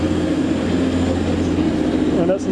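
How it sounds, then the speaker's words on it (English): A train pulling out of a railway station platform near Scunthorpe, a steady low rumble and hum of the departing train with a faint voice talking over it. "That's my train leaving"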